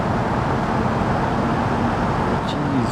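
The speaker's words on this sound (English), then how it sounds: "Gonna give this car all that it's got for power to see what it can do." A car engine in the BeamNG driving game roars at full throttle, a steady loud drone with a rising tone, while someone talks over it.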